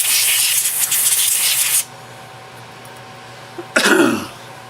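Air blown across a freshly sanded utility knife handle makes a strong rushing burst for almost two seconds, then a short pause and a second, briefer blast that trails off.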